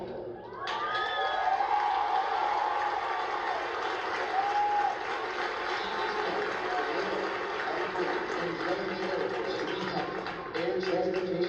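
A large crowd in the stands at an Air Force graduation in San Antonio, Texas, applauding and cheering steadily, with shouts and whoops rising over the sustained clapping.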